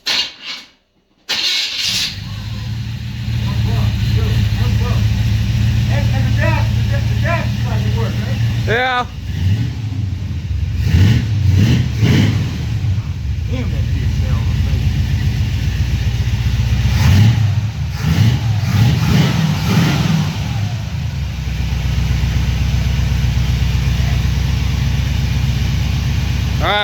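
A 1979 Chevy Impala, long abandoned, cranks and fires up, then settles into a rough running idle with several revving surges, as people talk nearby over the engine.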